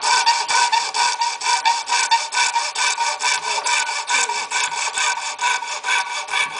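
A hand saw cuts through acrylic sheet with fast, regular rasping strokes, loud and close, each push and pull audible in a steady rhythm with no talking.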